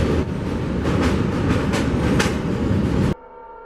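A train rolls past close by with a loud, continuous rumble and rhythmic clattering of wheels on the rails. The noise cuts off abruptly near the end.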